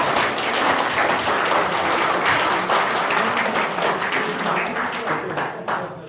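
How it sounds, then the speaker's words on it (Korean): Audience at a training session for MG credit union chairpersons gives a big round of applause to welcome a lecturer on Korean popular songs, dense, loud clapping continuing for about six seconds before thinning at the end. "큰 박수로 환영해 주시기 바랍니다."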